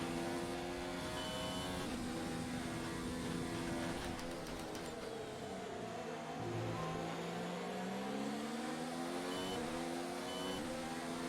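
Formula 1 cars racing at the Bahrain Grand Prix in a video game, a steady high engine whine rising and falling through gear changes, with a second car's note sweeping past midway.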